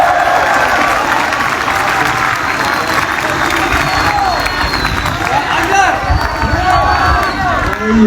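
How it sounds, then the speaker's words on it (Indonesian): Audience at a police ceremony honouring young brigadier officers breaks into loud, sustained applause and clapping that fills the room, with crowd noise and occasional voices mixed in throughout. "Tepuk tangan, terima kasih ya instruktur tari ya."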